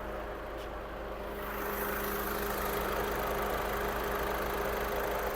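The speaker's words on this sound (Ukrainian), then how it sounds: "Двигун працює чітко." A Volkswagen Golf 6 engine runs steadily at idle, a continuous close rumble with a faint hum that rises slightly after the first second.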